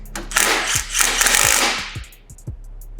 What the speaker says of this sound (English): now we're impacting everything and tightening it all up